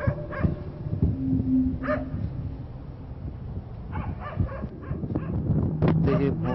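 Dog barks near a shrine and trees in a dangerous area at night, repeated yips and whimpering mixed with rustling, with people talking over it throughout.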